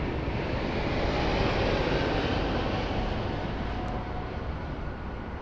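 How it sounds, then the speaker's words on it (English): An Airbus A320 jet departs Lisbon Airport with a steady, heavy engine roar that stays loud and unbroken throughout. "Airbus 320 departing"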